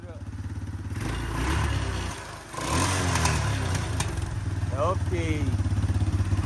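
An Arctic Cat 400cc 4x4 ATV engine under carburetor repair runs loudly close by, revving up, dipping briefly, then settling into a steady throbbing idle while someone speaks briefly over it.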